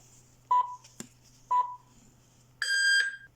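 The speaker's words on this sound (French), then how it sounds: "j'ai entendu le bip" A Victure PC660 camera emits electronic beeps during setup: two short identical tones about a second apart, then a longer, brighter multi-tone chime, all close and clear over a faint background hum.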